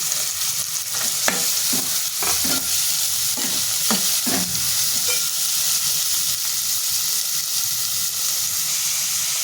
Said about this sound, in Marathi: मका हे टाकून ते परतून घेते आणि जी कोबी मी बारीक चिरलेली आहे ती सुद्धा टाकून घेते मी